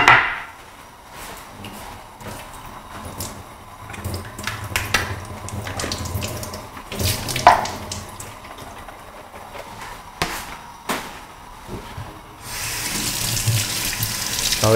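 Soup tofu is rinsed under a running kitchen tap, a steady close stream of water with a few knocks and clatters, growing louder toward the end, with no one talking.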